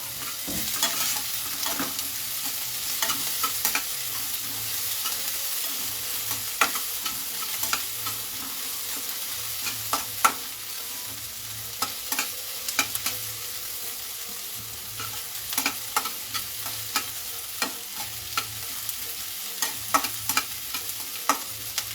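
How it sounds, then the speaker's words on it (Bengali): Onion and green chili frying gently in a pan over lowered heat, a steady close sizzle with repeated sharp scrapes and taps of a stirring spoon throughout, no talk. "এবার এই পেঁয়াজটা হালকা একটু আমি ভাজবো, আমি কিন্তু পুরো লাল করে ভাজবো না"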